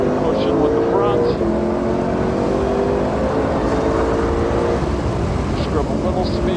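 Loud, steady roar of a GT500 race car engine on a road course at Ozarks International Raceway, heard from inside the car, with the pitch rising and falling as the driver eases off and gets back on the throttle, while someone talks over it.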